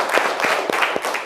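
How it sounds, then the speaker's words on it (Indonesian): Children in a classroom clap in a few loose bursts, sounding close and fairly loud with no talking over them. "Tepuk tangan ya, kalian hebat semuanya ya nak ya."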